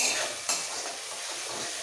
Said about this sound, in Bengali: এবার একটু হালকা ভেজে নেব